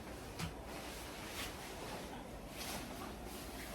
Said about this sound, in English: The ocean's still beautiful, even though it's raining.